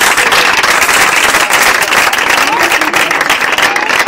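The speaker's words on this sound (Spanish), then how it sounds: "Un aplauso para aquel que vive." Church congregation applauding loudly during a lively service, a dense, sustained roar of many clapping hands close by, with cheering voices mixed in throughout the few seconds.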